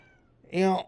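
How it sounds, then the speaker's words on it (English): A house cat lets out one short, loud, close meow, rising over faint background hum, with someone speaking briefly just before it. "That's my cat. Go away."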